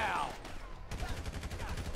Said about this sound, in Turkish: Ayağından vur.